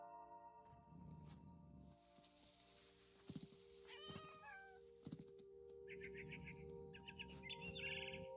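A single cat meows a few times in the middle, soft and drawn-out, over quiet, sustained background music, in the video game What Remains of Edith Finch.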